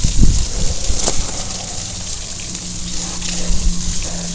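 Water gushing and splashing as it rinses caked mud off a bicycle, a loud steady wash with a few sharper spurts near the start.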